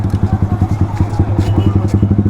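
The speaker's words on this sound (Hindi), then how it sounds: "अभी गाइस इस बाइक को पार्क करना पड़ेगा यहाँ पे।" A motorcycle idling close by as it is parked near a crowded fair, its engine putting out a steady lumpy throb with rhythmic pulses and some clatter, no one speaking.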